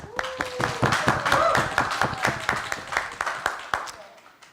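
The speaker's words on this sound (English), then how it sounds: "Please give a round of applause to our grand finalists" Scattered, uneven clapping from a small audience at a middle-school English debate grand final, with talk threading through, fading out near the end.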